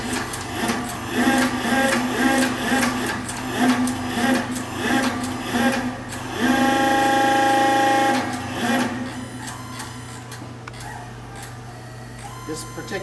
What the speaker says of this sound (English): Particular model is a booster pump